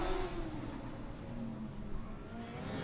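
A student-built endurance race car runs its final lap, its engine revving with a loud, close, buzzing roar that holds steady throughout.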